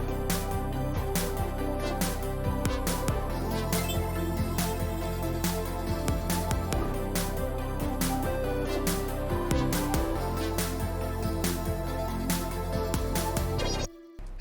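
The full beat plays as a dense, continuous mix of layered synths, steady drums and hi-hats, loud and unbroken until it cuts off abruptly near the end.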